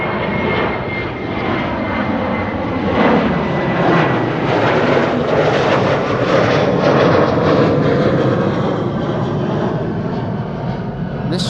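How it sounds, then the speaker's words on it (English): A KLM Boeing 737 departing Amsterdam Schiphol roars loudly and steadily, its engine noise swelling slightly in the middle and holding for over ten seconds. "In the meantime, a KLM 737 over here."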